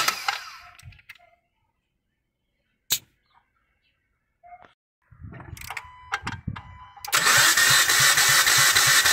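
A Dodge 2.4 engine cranking on its starter after an engine swap, a few short bursts at first, then a loud sustained mechanical churning and whir that fills the final seconds, close by.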